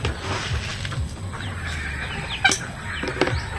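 Chickens cluck softly nearby against a steady outdoor background, with a few sharper squawks breaking through.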